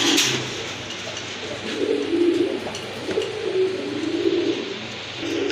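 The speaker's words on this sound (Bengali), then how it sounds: "এক জোড়া আফসান গ্রিজেল কবুতর" A pair of Afsan grizzle pigeons cooing softly, low rolling coos repeating under a steady background hum, close by with no talk.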